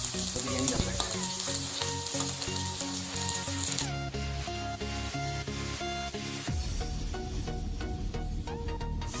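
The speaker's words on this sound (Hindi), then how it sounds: "जब तक ये लाल ना होता है तब तक हम इसको भूनते रहेंगे" Onions fry in hot oil in a pan for chicken biryani, a loud, continuous crackling sizzle close up, shifting in intensity as they are stirred, with no voices.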